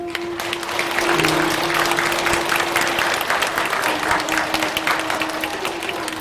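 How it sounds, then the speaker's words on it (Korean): Applause at a Buddhist temple ceremony: a large gathering claps loudly and continuously for several seconds, with a faint sustained tone underneath. "수고해주신 감로달의 고객님들께 다시 한번 큰 박수 부탁드리겠습니다."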